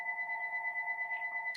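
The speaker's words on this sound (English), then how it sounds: "My phone is ringing." A mobile phone ringing indoors in a quilting room, with a steady electronic two-tone ring that repeats continuously and fairly loudly, then cuts off.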